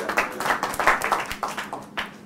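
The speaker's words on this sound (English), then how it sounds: "Clap for Kareem" Classroom students clapping for a classmate in a group lesson in Egypt, a short run of light, uneven claps from a small group, moderately close, with some murmuring underneath.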